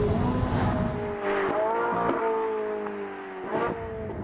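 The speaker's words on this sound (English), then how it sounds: "It's also tuned to produce a much sharper and better engine noise." A Ferrari 458 Italia V8 engine revs hard and sharp, climbing and dropping in pitch several times, loud and close with a raspy, high-pitched snarl.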